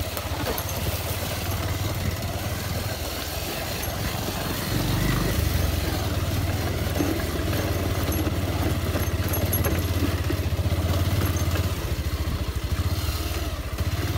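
Motorcycle engine running steadily while riding over a rough, badly broken road, a continuous low rumble with rattling clatter throughout, fairly close and with no talk.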